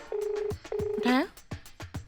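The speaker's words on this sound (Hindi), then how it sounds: "फोन करा रिंग बज रही है ना?" A phone call rings out in repeated electronic tones, two long steady tones with short gaps between them, mixed with other brief beeps and a voice speaking over it.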